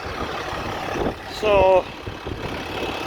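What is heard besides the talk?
turbocharged tractor engine running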